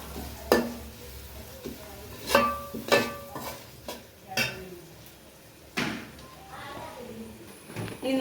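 Tomatoes cooking in coconut oil for a chicken curry, with soft sizzling under a series of spoon knocks and stirring scrapes against the pan, spaced irregularly throughout.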